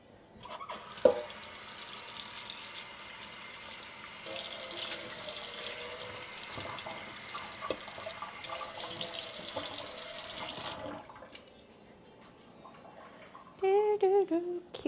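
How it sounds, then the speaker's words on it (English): A bowl being rinsed under a running kitchen tap, with steady flowing water splashing for about ten seconds. The tap then shuts off, and a voice talks briefly near the end. "I might just rinse the bottom of this."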